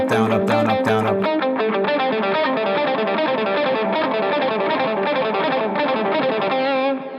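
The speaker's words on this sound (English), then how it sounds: "So if I were to straight up alternate pick this, right?" A distorted electric guitar plays a fast, even run of notes with alternate picking, down and up strokes in steady succession. A few muted strums come first, then the quick lick continues loud and unbroken with effects and no talk.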